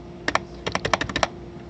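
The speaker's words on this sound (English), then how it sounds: "Just start typing something" A quick burst of typing on a computer keyboard, about a dozen close, crisp key clicks in a short irregular run, set against a faint steady hum.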